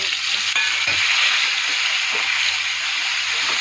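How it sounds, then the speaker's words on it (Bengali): Diced potatoes and green chillies frying in hot oil in a pan, a loud continuous sizzle and hiss close up, with occasional soft stirring scrapes and no talking. "আলুটাকে আমি একটু ভালো করে লাল লাল করে একটু ফ্রাই করে নেব।"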